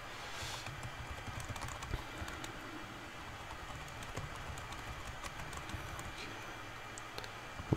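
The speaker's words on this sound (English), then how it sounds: "And let's type out a message." Typing a message on a computer keyboard: faint, quick key clicks in an uneven rhythm, close but quiet, over a soft room hiss.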